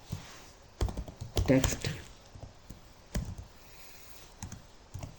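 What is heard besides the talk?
typing on a computer keyboard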